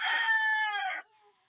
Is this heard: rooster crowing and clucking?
yes